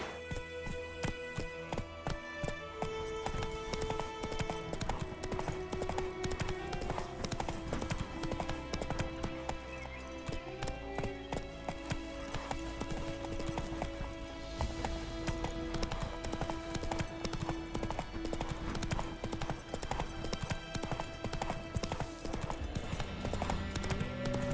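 Roach, Geralt's horse in The Witcher 3: Wild Hunt, galloping with a strong, rhythmic clip-clop of hooves that runs throughout, mixed with game music and ambient effects.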